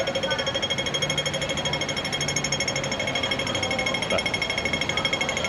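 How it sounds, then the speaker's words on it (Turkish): A Hong Kong pedestrian crossing signal gives a rapid, steady ticking pulse on a city street, with continuous mechanical rattling and faint street noise around it. "Trafik lambalarında şöyle gıcık bir sesle karşılaşacaksınız burada."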